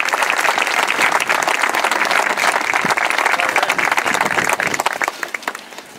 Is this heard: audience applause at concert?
yes